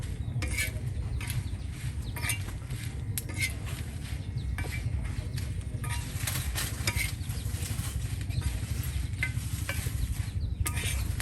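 Chilies fry in a pan, sizzling steadily and loudly for the whole stretch, with the scrape and clink of a utensil stirring them throughout.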